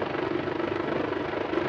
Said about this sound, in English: somebody's on the chopper with a grapple.